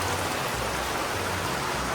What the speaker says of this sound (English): That is raining really hard.